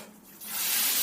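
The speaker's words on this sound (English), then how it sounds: "The lovely protective films, we'll have those off." Protective plastic film peels off a new Samsung microwave oven in a short, close rubbing, tearing swish that rises and grows brighter as it pulls away.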